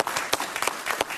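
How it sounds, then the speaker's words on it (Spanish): A studio audience at a Spanish-language television interview show applauds, a brief burst of dense, steady clapping with sharper individual claps standing out. "Un aplauso para ella,"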